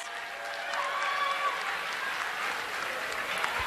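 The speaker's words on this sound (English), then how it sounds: "Let's give all of those students a round of applause." Audience applause for honor roll students at a high school ceremony, a steady wash of clapping that holds evenly for the whole stretch, with some crowd murmur mixed in.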